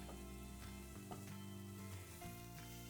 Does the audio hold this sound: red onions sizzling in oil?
yes